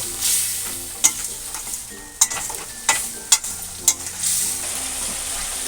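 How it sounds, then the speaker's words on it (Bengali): Spice and soybean mixture for soyabean muithya sautés in a pan with a little water, a soft continuous sizzle punctuated by several distinct spatula scrapes and taps at irregular intervals; no voices. "এটা আমি ভালো করে কষিয়ে নেব।"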